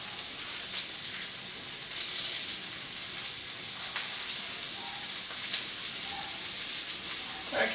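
Chopped onions frying with beef and vegetables in a pan, a steady close sizzle like light rain that runs the whole time, with a few faint stirring clicks and no talking.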